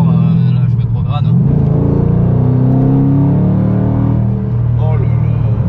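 Ford Mustang GT Premium 2013 V8 revving through downshifts on wet road, loud engine rumble with blips rising and falling between gears, close and continuous for several seconds.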